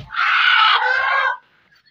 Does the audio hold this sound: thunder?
no